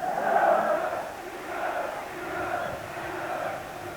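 A huge football crowd of around 42,000 at Keegan's farewell match at Maine Road roars and chants in waves, a dense distant swell filling the stadium.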